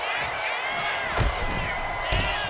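A wrestling arena crowd in WWE 2K26 cheers and roars continuously, with a couple of heavy slam-like thuds from the ring standing out over the steady crowd noise.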